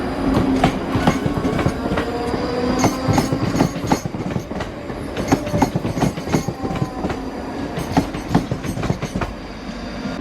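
A train runs over the single-track line at Milngavie, its wheels giving a steady clickety-clack with repeated sharp rail clicks over a continuous rumble, close and loud throughout.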